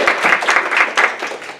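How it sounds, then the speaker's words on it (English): An audience claps for two performers taking the stage at a comedy night, a short burst of dense applause filling the room with rapid overlapping hand claps. "A round of applause for my 2 performers."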